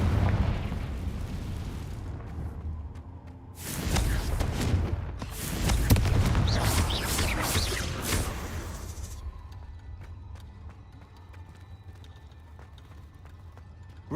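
A Confringo spell explosion in Hogwarts Legacy bursts loudly after a quieter opening, roars in a broad blast for about five seconds, then falls off to a fainter crackling tail with sparse clicks.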